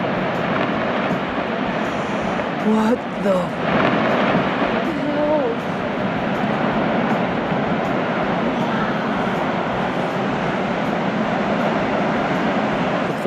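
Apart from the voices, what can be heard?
ice breaking and falling, glacier in Argentina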